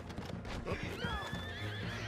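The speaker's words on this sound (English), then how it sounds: "Alright, I'm getting my horse up." A horse gives a loud, close whinny that rises and falls over about a second, with hoof clip-clops and rustling beneath it and no talk.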